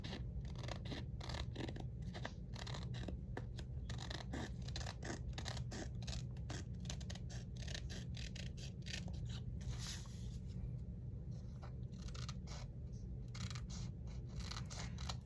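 Repeated snipping and slicing of scissors trimming paper booklet pages, a quick steady run of close, crisp cuts with soft scraping between them, continuing throughout.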